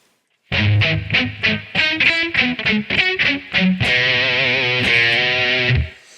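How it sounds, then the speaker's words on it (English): Palm-muted distorted electric guitar notes, a run of short tight plucked notes followed by a final phrase let ring out, loud and alone. "we're going to play the notes as sort of short and tight as possible by muffling them down here"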